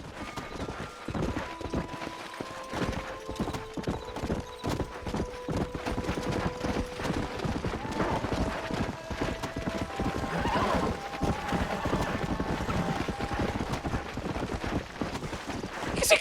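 Horse hooves clip-clop steadily through Red Dead Redemption gameplay, a dense run of close hoofbeats with an occasional whinny and horns of game music underneath, continuing without letup.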